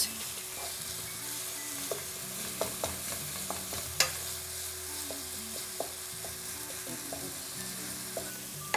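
Ground beef sizzles and crackles in a pan, with occasional clinks and scrapes of stirring over a steady frying hiss.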